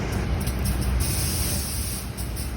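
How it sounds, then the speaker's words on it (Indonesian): A locomotive shunting in the yard at Tebing Tinggi station to couple with Siantar Express passenger cars gives a steady, loud, close rumble with a broad hiss running throughout. "sedang langsir untuk bergandeng dengan kereta penumpang, kereta api Siantar Express"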